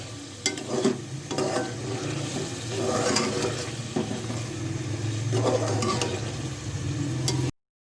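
Chopped tomatoes cooking down in a pan for daal gosht, with an even sizzle, irregular stirring scrapes and soft ticks of a spoon against the pan throughout, fairly close.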